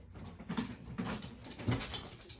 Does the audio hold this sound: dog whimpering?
yes